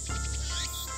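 Cicadas chirp steadily in the Steins;Gate video game, a continuous buzzing drone with pulsing high trills, alone and at a moderate level.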